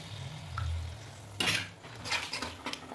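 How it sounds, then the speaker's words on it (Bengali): Capsicum curry being stirred in a pan, a low simmer under two or three short scraping clatters of a spoon against the metal, close and fairly quiet, with no voices. "একটু নাড়াচাড়া করে নেবো আগে ভালো করে।"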